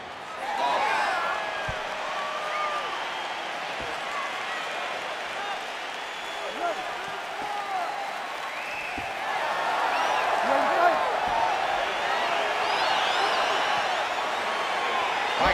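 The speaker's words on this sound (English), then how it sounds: "Crowd getting excited as this fight gets underway" An arena crowd in the UFC 4 video game roars and cheers at the start of a fight, a broad sustained swell that grows louder partway through, with a few thuds and a commentator talking over it.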